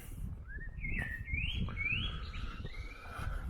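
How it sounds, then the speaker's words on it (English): Birds sing beside the River Derwent in May: a series of clear, rising whistled phrases trill one after another over a steady low outdoor rumble, fairly near and distinct. "I like to just listen to the birds"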